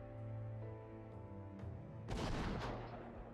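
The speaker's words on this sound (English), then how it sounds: "Cannons pounded the Fushimi magistrate's office, and the ground shook with each impact." Cannon fire in the Hakuoki: Kyoto Winds video game, a deep boom and crashing blast rising after a low rumbling stretch amid faint game music.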